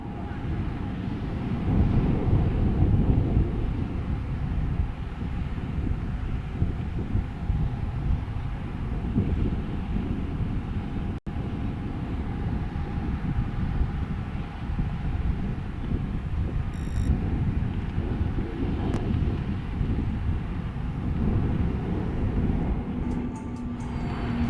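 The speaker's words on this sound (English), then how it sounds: "The P-8I is a variant of the P-8 Alpha that was developed by Boeing for the US Navy." A Boeing P-8I maritime patrol aircraft flies past at the Aero India air show in Bengaluru, a sustained broad roar of engines mixed with gusty wind buffeting across the microphone.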